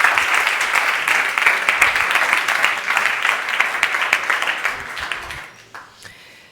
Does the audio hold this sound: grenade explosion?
no